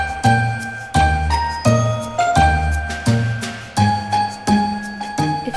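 A Christmas-style music disc from a Minecraft Bedrock add-on plays a bright jingling, bell-like melody with steady rhythmic pulses roughly every 0.7 seconds, clear and upfront with no voices.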